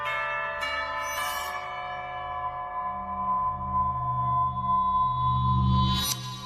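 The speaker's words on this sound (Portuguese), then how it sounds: "Esse sino é alto pra caralho." A loud bell rings with a long, shimmering resonant tone, struck again and sustaining as it slowly decays, alone without talk.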